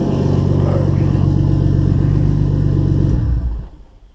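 Nissan R32 Skyline with a big turbo and bigger injectors idles loud and close with a steady, dense rumble, then the engine is switched off and the sound dies away in the last half second.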